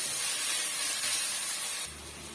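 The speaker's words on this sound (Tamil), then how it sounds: "பாருங்க வெங்காயம் ஓரளவுக்கு நல்லா வதங்கி வந்துடுச்சு" Steady loud sizzling hiss of onions sautéing in a hot pan, close up, easing slightly near the end.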